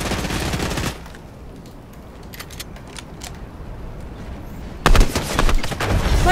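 Gunfire from a shooter video game comes in sharp bursts of rapid shots, opening the clip for about a second, then a quieter stretch with scattered clicks, before loud shooting resumes near the end.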